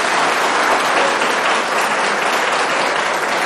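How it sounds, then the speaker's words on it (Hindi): A studio audience at a televised political debate bursts into loud, dense applause, close and continuous from start to finish. "आपकी तालियां बताएंगी, तालियां बजेंगी"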